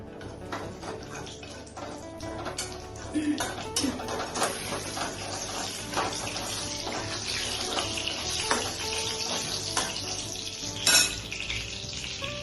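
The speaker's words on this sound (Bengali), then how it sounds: "দেখুন এইভাবে করে আমি এখন এগুলোকে ভাজবো" Ivy gourd (tondli) fries in mustard oil in a pan with a continuous loud sizzle and crackle, plus occasional utensil scrapes and clinks.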